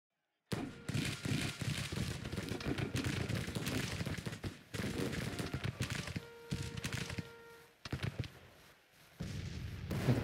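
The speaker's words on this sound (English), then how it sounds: "I want you to hear the gunshots." Civil War battle gunfire in the strategy game Grand Tactician: The Civil War: dense, irregular volleys of musketry and booming artillery, loud and continuous with brief lulls.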